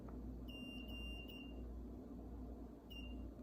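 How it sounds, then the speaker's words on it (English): An electronic buzzer on a Morse code learning device sounds the letter G: two longer tones and a short one in quick succession, a pause, then another tone begins, thin and high over a low steady hum. "this buzzer that's right down here. It's actually beeping the Morse code for this value, or this letter"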